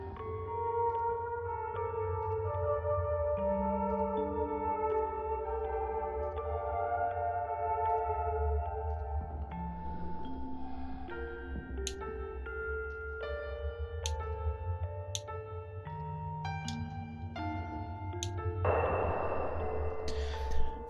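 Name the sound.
piano melody in a video game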